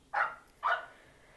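A puppy gives two short, sharp barks about half a second apart, close and fairly loud, with nothing else around them.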